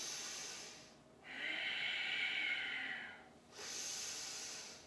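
Slow yoga breaths in a chair session: a soft nasal inhale, then a longer, louder airy exhale lasting about two seconds, then another inhale, close and alone with no talk.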